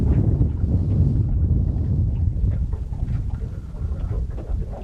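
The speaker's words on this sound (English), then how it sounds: "get out of this real hard wind" Hard wind blowing across a river bend while fishing, a steady loud roar and buffeting against the microphone that carries on without a break for the whole stretch.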